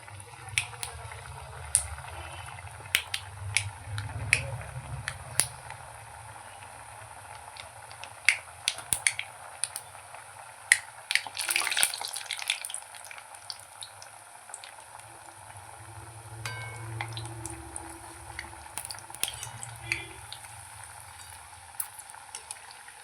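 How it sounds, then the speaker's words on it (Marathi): Pumpkin gharya, a sweet Maharashtrian dough made with jaggery, fry in hot oil in a pan on a gas stove, giving a soft steady bubbling sizzle with scattered sharp pops and crackles, fairly quiet and close. "गॅसवरती तेल ठेवलेलं आहे आणि ते गरम झालेलं आहे तर आता ह्या घाऱ्या आपण तेलामध्ये तळून घेऊया"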